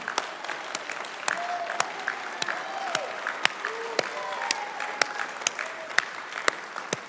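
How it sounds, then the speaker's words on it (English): Audience applause at a Chinese American community book launch celebration in Irvine, a steady patter of many hands clapping for several seconds, moderately loud and continuous, with sharper individual claps standing out and faint voices underneath. "Let's give them a round of applause."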